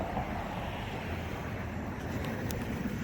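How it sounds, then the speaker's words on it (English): Road traffic on Windsor Road beside a park path makes a steady, unbroken roar that fills the whole stretch with no separate passes standing out. No one speaks. "so excuse the traffic noise"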